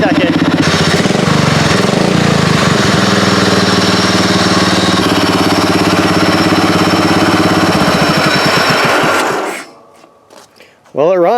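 A smoky engine that may have a damaged piston ring, valve seal or head gasket runs loudly and steadily just after starting, then cuts off, followed by brief talking.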